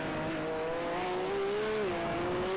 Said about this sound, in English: Look at the way that the car just wags its tail out of the hairpin.